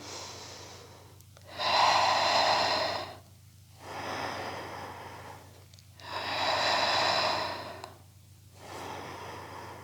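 Slow, deep breathing during a Pilates exercise: four long, airy breaths close to the mic, alternating inhales and exhales with quiet pauses between, and no talk over them.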